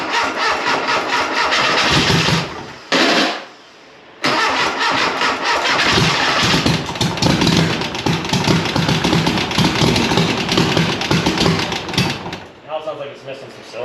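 A VW 411 engine cranks and fires, then runs rough and uneven as if missing cylinders, its loud sputtering idle dropping out briefly before catching again, with people talking over it.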